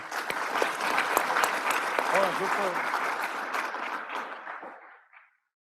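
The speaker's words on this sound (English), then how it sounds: "All right, another round of applause, please." Sustained round of audience applause at an Army ROTC award ceremony, dense and steady from a crowd indoors, with a few voices mixed in before the clapping tapers off and stops.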